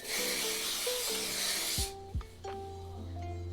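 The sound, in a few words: hair shine spray misting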